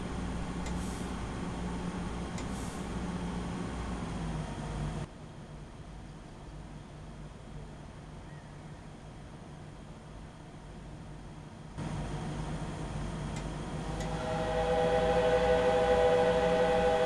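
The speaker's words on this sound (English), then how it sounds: "allowing the train to coast in at around 25 miles per hour at this point." A BR 426 electric multiple unit coasting into a German station at about 25 mph in Train Simulator 2015, giving a steady rumbling rail hum with faint whistle tones early on and a brief quieter stretch mid-way.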